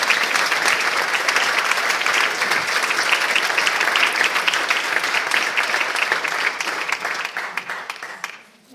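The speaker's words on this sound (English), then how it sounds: "A great applause also to Swamiji." An audience at a book presentation bursts into sustained applause, dense steady clapping that holds strong for several seconds before tapering off at the end.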